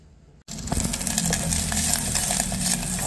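Diced ham hits hot oil in a pan and starts stir-frying. After a quiet moment, a sudden steady sizzle sets in with scattered clinks and scraping, loud and close, with no talking.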